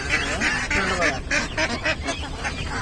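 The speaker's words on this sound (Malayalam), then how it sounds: "താറാവ് കണ്ടു." Ducks for sale at the Chelari weekly livestock market give loud, close, repeated nasal quacks in quick bursts, with some market chatter underneath.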